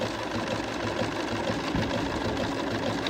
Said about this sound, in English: I like the walking foot because it paces the stitches and it makes them come out really even.